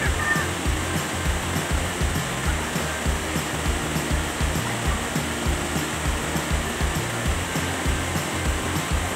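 Water pours down at Tres Andanas Falls in a constant, dense rushing roar, loud and close, with an even texture and no voices over it.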